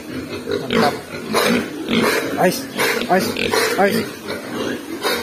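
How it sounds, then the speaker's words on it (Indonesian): Pigs in a battery pen on a Bali pig farm, repeated grunts and oinks close by, mixed with rustling movement, while a person briefly speaks. "Babinya suka loncat teman-teman, gampang keluar ya di umur-umur segini."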